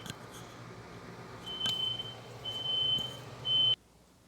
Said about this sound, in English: Apparently my AC beeps like a freaking fire alarm.